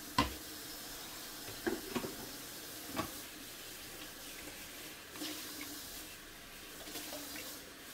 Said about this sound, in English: That's a, some hot water.